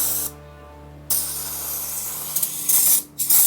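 Aerosol brake cleaner sprayed onto a motorcycle part in a few sharp, close bursts of loud hissing with brief gaps between them, alone with no voices.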